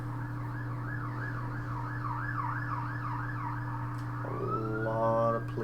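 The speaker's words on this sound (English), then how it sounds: "Yep, seagulls, police cars. That is pretty much what you're going to hear." Police car sirens wail in a steady repeating up-and-down cycle over a constant low hum, then a second, different siren sweeps in near the end, moderately distant.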